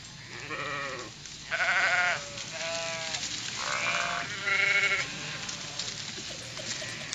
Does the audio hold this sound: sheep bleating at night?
yes